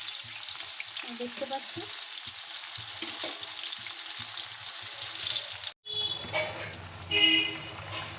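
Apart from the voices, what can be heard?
pumpkin slices frying in oil in a pan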